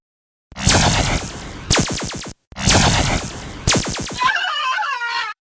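Laser gun sound effect of the science fiction kind: two loud bursts of rapid zapping pulses, each trailing into a warbling electronic tone, with a brief silence between them and nobody talking.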